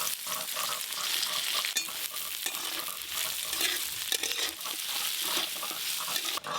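Chopped onion sizzles loudly in hot oil with a dried red chilli tempering, a dense close-up hiss broken by crackles and the scrape of stirring.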